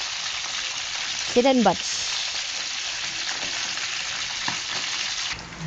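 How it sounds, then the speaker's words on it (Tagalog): Galunggong fish fry in a pan with a continuous loud sizzle that holds steady throughout. A short burst of speech cuts in early, then a soft clink follows. "Ito yung pritong galonggong"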